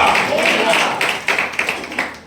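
A church congregation clapping along during a sermon, with rhythmic hand claps blended under a raised voice.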